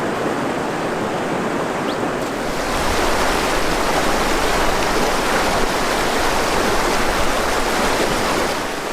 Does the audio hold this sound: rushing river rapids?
yes